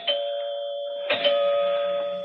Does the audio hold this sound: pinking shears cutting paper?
no